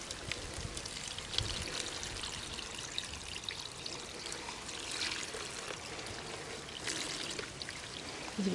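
Water pours steadily from a full bucket, a continuous splashing gush with no voices, fairly quiet and close.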